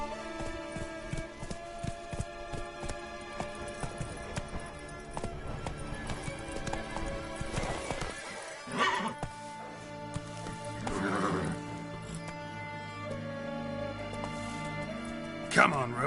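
Roach, the horse in The Witcher 3, gallops with quick drumming hoofbeats, then slows and lets out whinnying neighs, close and moderately loud, with voices speaking at times.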